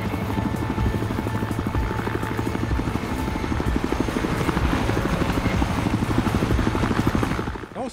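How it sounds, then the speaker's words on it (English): A helicopter in Battlefield Hardline flies close overhead, its rotor chopping steadily and loudly through the whole stretch with a dense, throbbing drone and no break. "I'm trying to get past this chopper."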